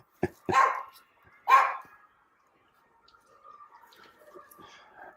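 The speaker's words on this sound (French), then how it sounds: "même si le chien il s'énerve un peu" A dog barks twice in quick succession, loud and close, then pauses before a third bark; faint rustling and quieter sounds follow.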